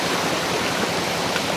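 Rushing water of the Bagsit River, a broad steady roar of flow heard close and continuous, with no voices.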